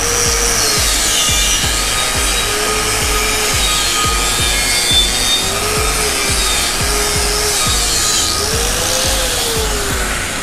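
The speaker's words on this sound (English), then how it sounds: "I'm just going to hit it again with a brush just to make sure." A wire brush scrubs slag off a steel weld on an 8-inch 6G pipe, giving steady rhythmic rasping strokes, close and loud, with a continuous workshop hum underneath.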